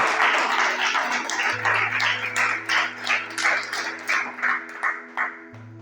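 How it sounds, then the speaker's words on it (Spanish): A church congregation claps together in praise to the Lord, a steady rhythmic run of hand claps in a large room over a low electrical hum. "Dale otro aplauso fuerte al Señor"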